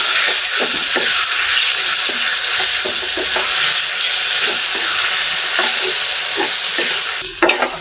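Taro stems dropped into hot oil already browned and stirred in the pan, giving a loud, steady sizzle broken by regular scraping strokes of the spoon, with no voices.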